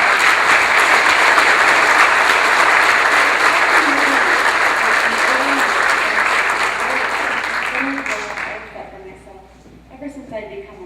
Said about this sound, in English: Let's give her a large round of applause.